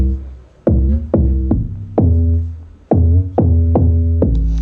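A dry synth bass preset from Massive, played without effects, sounds eight punchy, plucked notes in an uneven rhythm, each with a sharp attack and a quick decay, loud and alone.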